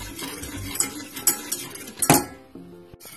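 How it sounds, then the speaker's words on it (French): A spoon or whisk stirs hot milk into pastry cream mixture in a bowl or pan, with clinking of utensil against dish and scraping strokes, one louder clatter near the middle, no talking. "Versez le lait chaud tout en mélangeant"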